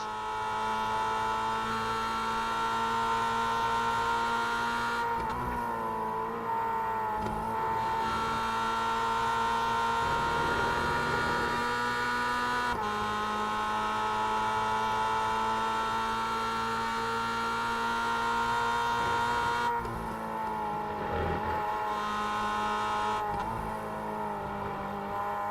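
Racing cars in a Roadster Rumble race driven hard, with a loud, steady engine drone holding high revs throughout and brief dips near 5–7 and 20–22 seconds as the cars shift or lift, tyre noise blended in; no talk.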